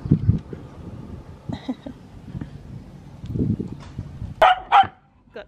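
Cocker Spaniel puppies at home, making soft yips and whimpers, then two louder, sharper barks close by near the end.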